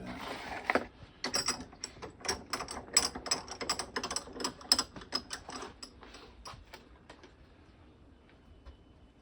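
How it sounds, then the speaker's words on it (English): A Harley EVO engine part is clamped and tightened in a bench vise, producing a run of quick metallic ratcheting clicks and clanks that thin out and fade toward the end, with no speech. "Wait till I get this in the vise to do that."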